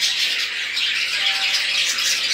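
Birds in an aviary squawk continuously, a dense, loud chorus of harsh calls up close with no talking.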